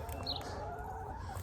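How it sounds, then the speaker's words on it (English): Backyard chickens in a garden run cluck softly and intermittently at a distance over a low steady background hum. "There's my chickens again."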